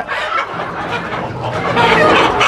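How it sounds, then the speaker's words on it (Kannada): A crowd of native country chickens clucks and squawks nonstop at close range, a dense, noisy chorus of overlapping calls. "ಇದು ರಿಯಲ್ ಸೌಂಡು ನಾಟಿ ಕೋಳಿದು. ಕಿರ್ಚಾಟ ಕೂಗಾಟ ಇರಬೇಕು ನಾಟಿ ಕೋಳಿಗೆ"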